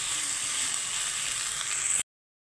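Onion and jackfruit soya frying together in a pan, a steady, close, loud sizzle that holds evenly for about two seconds and then cuts off abruptly.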